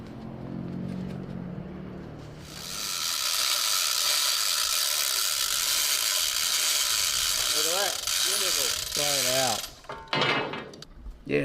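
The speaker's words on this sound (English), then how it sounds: "using a tap to clear out the rust and debris so that the bolts can go in a little easier" A tap clears rust and debris from bolt holes on a WWII tank in Australia with a loud, continuous metallic grinding whir lasting several seconds, preceded and followed by voices and clanks.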